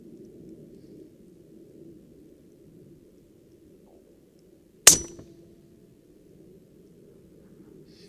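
A single sharp metallic impact from a bullet striking a steel target at 1000 yards, fired with Tula 62 grain hollow point ammo, rings out once over steady low wind noise and then decays briefly.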